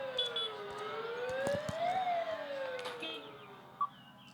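An ambulance siren in the video game Dude Theft Wars wails with a rising and falling pitch at moderate distance, with a faint click near the end.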